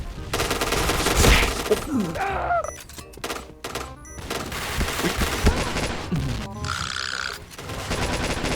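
Long bursts of automatic rifle fire from PUBG with an AC-style gun, loud rapid rattling strings broken by brief pauses, with a few thuds and game sounds between the volleys.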